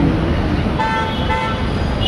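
Busy LB Nagar crossroads traffic in Hyderabad, with continuous engine roar from cars, autos and cabs near a metro flyover and two or three honking car horns sounding over it.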